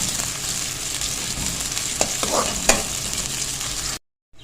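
One medium sliced onion frying in oil until golden for chicken yakhni pulao, a steady bubbling sizzle with a couple of spatula knocks and scrapes near the end before it cuts off.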